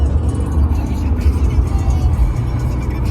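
Car interior road noise as the vehicle drives off toward a rap festival, a steady low rumble throughout, loud and close.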